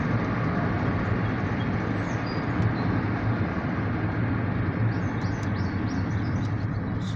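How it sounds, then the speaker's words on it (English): A very short OC&T tanker train rolls past, a steady, fairly close rumble of wheels and cars on the rails, with faint bird chirps over the top and no talking. "We have an OC&T very short tanker train."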